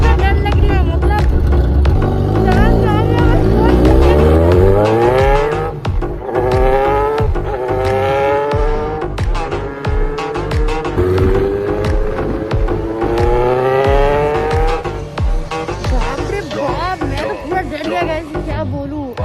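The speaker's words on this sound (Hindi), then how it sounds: "तभी मेरे को अगर सुपर बाइक का राइड दे रही है" A superbike ridden at full speed: the engine's pitch climbs and falls in long revving sweeps, loud and close, with people talking and shouting over it throughout.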